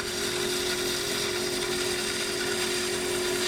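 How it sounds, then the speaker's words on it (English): Bowl gouge cutting a wooden stave drum shell spinning on a lathe, giving a continuous steady whirring hiss with a constant motor hum, close and unbroken, with no talk. "So by using the bowl gouge the way I am here, I get the results I'm looking for."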